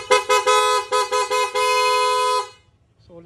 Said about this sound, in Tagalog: Naka dual horn din mga sir.